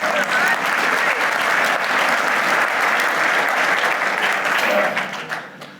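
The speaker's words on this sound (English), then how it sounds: "You can clap for that one." Lecture audience claps loudly and steadily for several seconds, a dense burst of hands that fades out at the end.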